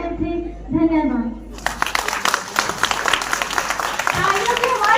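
Applause from the audience at a school farewell party breaks out after a short stretch of speech and continues as steady, crisp clapping from many hands, with a voice rising again over it near the end.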